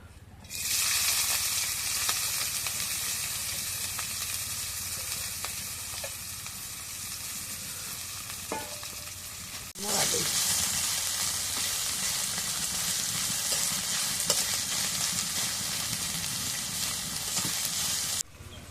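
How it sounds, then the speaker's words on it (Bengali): Onion and chili frying in oil in a pan, a loud continuous sizzle with occasional stirring taps, swelling louder midway after a brief stir. "এখন তেল দিয়ে পেঁয়াজ মরিচটা ভেজে নেই"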